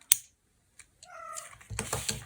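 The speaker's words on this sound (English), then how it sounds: "Oh, it was actually Meadow, another male cat that I have" An adult male cat, nearly ten years old and very vocal, gives a short nearby meow, followed by a quiet pause and then soft shuffling and tapping noises at close range.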